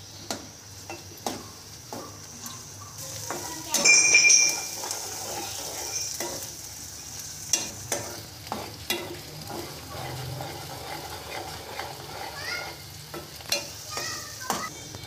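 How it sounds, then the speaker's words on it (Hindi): Onion frying in ghee in a karahi, a low steady sizzle broken by regular scraping knocks and clinks of a spoon stirring against the pan, with a louder burst near the start. "कढ़ाई में मैंने एक अदर प्याज डाल दिया और घी डाल के अब मैं इसे फ्राई करती हूँ।"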